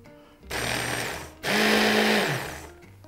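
An electric chopper whirs loudly, breaking down surimi crab sticks in two steady bursts of buzzing motor with a short gap between them, close and alone.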